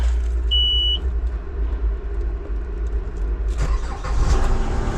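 An excavator's engine turns over and catches, a low continuous rumble that swells into a louder roar near the end, heard up close from inside the cab with a brief electronic beep early on.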